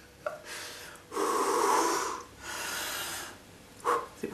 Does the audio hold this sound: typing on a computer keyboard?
no